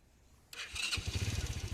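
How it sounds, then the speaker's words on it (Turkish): A Kuba X Boss motorcycle engine cranks with a starter whine and catches, settling into a fast, close, pulsing idle. "Şimdi tekrardan motorumuzu çalıştıralım."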